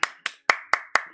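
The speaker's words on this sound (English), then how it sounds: "Claps." Five sharp hand claps, close and evenly spaced about a quarter second apart, each ringing briefly before the next, with no voices.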